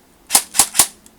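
An airsoft AK-47 replica running on an 11.1 volt 1200 mAh battery fires in semi-auto: three sharp, close, even-spaced cracks, with a faint click after them.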